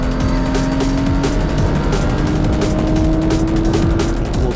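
Porsche race cars circulate loudly and close, engines droning continuously while tyres squeal under hard braking, a dense, unbroken wall of motorsport noise.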